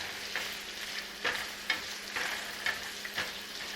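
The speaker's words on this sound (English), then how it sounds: "We just keep stirring this and keep mixing and keep cooking until this begins to soften slightly" Apple pieces with a pinch of salt are stirred in a pan on the stove, giving a soft, steady sizzle broken by repeated scraping strokes of the spoon at an unhurried rhythm.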